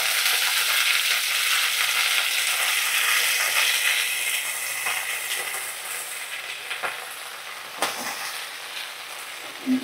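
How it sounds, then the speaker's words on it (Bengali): Chopped onion and cut leafy greens fry in hot oil in a home kitchen, a loud steady sizzle that slowly eases, with a few stirring clicks near the end. "দেখো তেলের মধ্যে একটু কুচানো পেঁয়াজ ছেড়ে দিচ্ছি। আর কাটা শাকগুলো দিয়ে দিলাম।"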